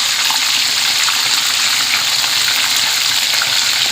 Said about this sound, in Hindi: एक एक करके मैंने चॉम्प घी में डाल दी है।